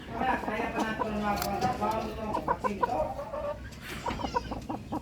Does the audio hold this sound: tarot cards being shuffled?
no